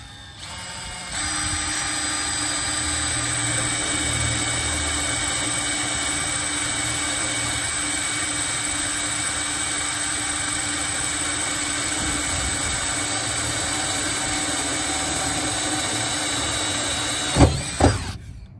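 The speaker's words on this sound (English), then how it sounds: "So let's just drill and see what happens." A steady mechanical whine with a constant tone runs for most of the clip as a drill bores holes in panel corners, ending with a couple of sharp knocks.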